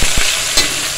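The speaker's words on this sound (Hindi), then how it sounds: "अब हम इसमें जो है ना ये गरम मसाला ऐड कर रहे हैं, ठीक है। और इसी के साथ हम इसमें ऐड करेंगे प्याज" Onions hit a hot pan of minced meat and bitter gourd with garam masala, letting out a loud, close, bright sizzle that swells sharply for a moment and then settles into a continuous hiss.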